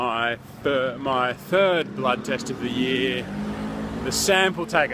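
Busy road traffic with cars passing close by, engines swelling and fading under someone talking as he walks along the street.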